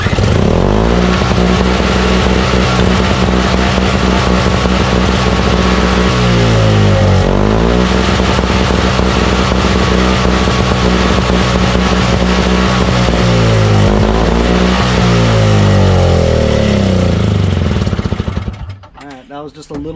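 A small engine on snowblower or lawn mower equipment runs loud and close on the last bit of old gas left in the carburetor, revving and dipping a couple of times before sputtering out abruptly at the end.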